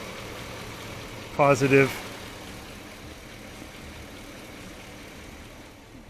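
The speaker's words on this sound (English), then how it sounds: "over here, we're running the engine." A GMC Yukon engine idles nearby while jump-starting a Prius, a steady low hum running throughout beneath a brief spoken word.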